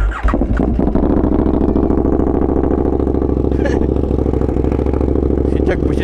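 A KTM Super Duke motorcycle idling and revving loudly up close at a riding safety seminar gathering, its deep throbbing engine note steady and rough throughout, with faint voices in the background.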